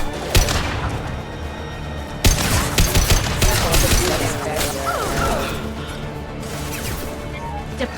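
Rapid high-impact gunshots in Mass Effect 2 ring out in a dense, continuous volley, with sharp cracks and mechanical clatter layered over a busy battle mix.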